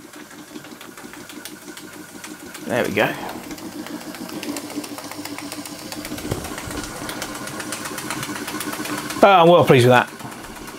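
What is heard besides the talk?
Märklin 4106/6 model steam engine running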